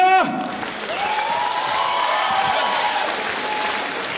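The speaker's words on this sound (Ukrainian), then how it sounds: "Ваші оплески, дідьо!" A Ukrainian folk-comedy show audience breaks into applause after a sharp opening burst, a dense steady wash of clapping that holds evenly for the full stretch, with a sustained voice or tone gliding through the middle.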